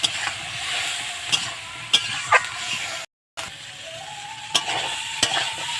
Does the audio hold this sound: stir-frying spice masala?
yes